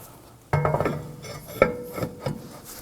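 A brake rotor for an Acura MDX slides onto the wheel hub with a sharp metallic clank, then scraping and rubbing metal contacts and a second clink as it seats.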